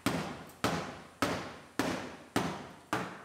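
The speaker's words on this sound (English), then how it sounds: "And we'll hammer out our quarter a little more." A hammer strikes a damaged Lexus IS250 rear quarter panel during body repair. Six sharp, evenly spaced metallic blows land about every half second, each ringing briefly before fading, with no talking.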